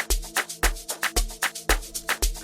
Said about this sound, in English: So that's why I always triple my strings on my beats guys.